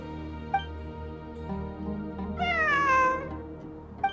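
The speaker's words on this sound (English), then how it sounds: "It really is a cat." A cat meows in a fantasy video game, a short soft mew followed by a longer, louder drawn-out meow that falls in pitch, heard alone against a quiet ambient musical backdrop.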